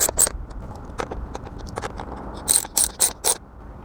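An old sheet metal screw is driven snug into the plastic fog light bezel of a Toyota RAV4: a close series of short ratcheting clicks and scrapes comes in uneven bursts, with denser clicking near the end.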